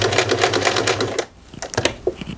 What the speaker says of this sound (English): So just sew as far as you can until you can't sew anymore. You backstitch.